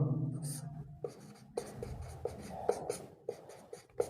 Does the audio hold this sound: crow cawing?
no